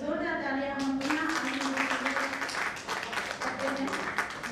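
Audience applause at a book launch ceremony, dense clapping that builds after a voice and continues steadily, with speech mixed in over it.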